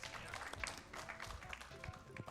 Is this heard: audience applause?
yes